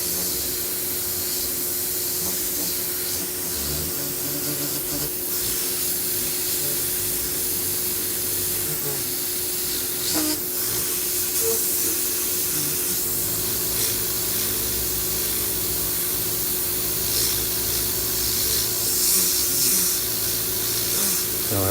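An airbrush sprays paint onto a skull with a black base coat, giving a steady, close hiss that runs unbroken throughout, broken only by faint small clicks and handling noises.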